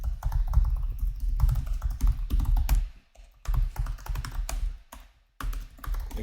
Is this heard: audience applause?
no